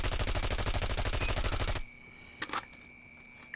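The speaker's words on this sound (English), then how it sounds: "Of course, here is the hip fire spread." Rapid automatic hip fire from a RUS-79U gun in a video game, a loud steady burst of closely spaced shots that cuts off partway through, leaving a quiet tail with a few faint clicks.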